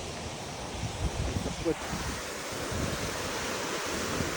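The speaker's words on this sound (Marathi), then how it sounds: "नॅचरल पाणी हे बघा असं उतराचा आहे आणि खालती नदी आहे" A mountain river in the Himalayan valley near Mana village, Uttarakhand, heard as a steady, broad rush of flowing water below a steep slope, continuous and moderately loud with wind mixed in.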